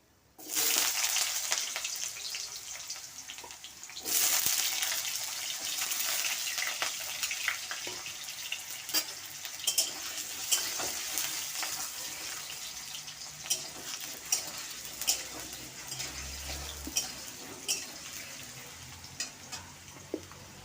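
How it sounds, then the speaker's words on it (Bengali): Potatoes fry in hot oil after fritters are lifted out of the same pan. A loud sizzling burst comes at the start and again a few seconds later, then settles into a long, steady crackle with scattered pops and light stirring. "এই তেলের মধ্যেই আমি আলু ভেজে নেব।"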